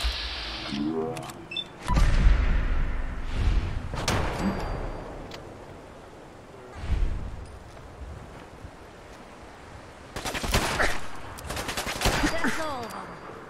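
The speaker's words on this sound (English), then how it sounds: "Gotta shoot those guys in the head." Gunfire in a hardcore survival video game sounds in loud bursts and volleys amid a roaring, windy background, some shots close and heavy, others rattling in quick sequences.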